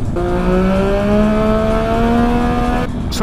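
A 2020 Triumph Speed Triple RS motorcycle engine revs steadily and loudly, a smooth sustained drone that rises slightly in pitch before cutting off near the end, with no talking.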